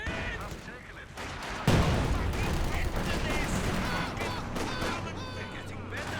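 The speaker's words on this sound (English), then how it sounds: "Go for a Zis barrage on the machine gun in the center" ZiS gun barrage in a strategy video game of the Insane Series, heard as a continuous muffled rumble of artillery fire with one sharp boom, under steady game noise with a voice talking throughout.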